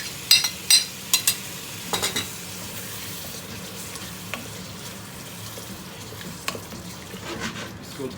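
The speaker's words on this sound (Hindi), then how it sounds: "इसको 2-4 मिनट के लिए हम मज़ीद भूनेंगे।" Mutton with ground cumin and chili fries in a pan under a soft steady sizzle, punctuated by a series of sharp metallic scrapes and clinks of a spoon stirring, most clustered at the start and a few scattered later.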